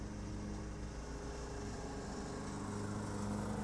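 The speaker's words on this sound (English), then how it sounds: "a guy going around next door with a lawnmower" A lawnmower engine drones steadily next door, a constant mid-distance hum with a fixed low tone that holds unbroken and even throughout.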